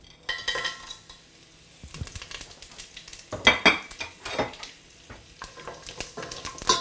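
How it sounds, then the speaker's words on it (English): Cumin seeds and black cardamom sizzle in hot oil in a pan, with intermittent stirring scrapes and utensil clinks over a soft frying hiss, close and fairly quiet. "As soon as it goes in and it starts to sizzle"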